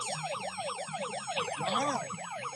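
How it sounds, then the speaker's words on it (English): Wailing siren blared through a megaphone amid a chaotic street protest, its rising and falling sweeps repeating steadily and loud throughout, with a brief exclamation from someone nearby. "They're just leaving that siren go on the megaphone"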